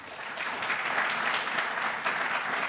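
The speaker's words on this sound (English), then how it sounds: "So one more round of applause for our three wonderful speakers." An audience at an AI research event applauds three speakers: a dense, steady wash of clapping from many hands that holds throughout, fairly loud and with no talking over it.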